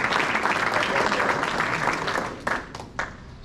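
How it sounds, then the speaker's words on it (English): Banquet audience applauding at a youth sports awards and recognition event, a dense wash of clapping that holds steady, then thins into a few scattered claps before stopping. "So give these guys a round of applause."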